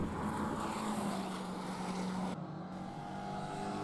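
A Lotus Elise S-Cup race car pulls out onto the Brands Hatch circuit, its engine droning steadily at close range through wind-buffeted in-car sound, with a brief shift in tone partway through.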